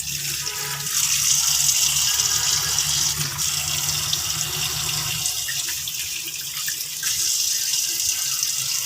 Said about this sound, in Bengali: এটা যখন হবে তখন বাঁধাকপিটা ধুয়ে নেব